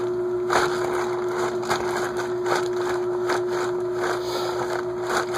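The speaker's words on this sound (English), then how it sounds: "that's the Air King being noisy" An Air King fan runs noisily with a steady, close drone and a constant hum tone, with faint rhythmic rattling pulses recurring through the sound.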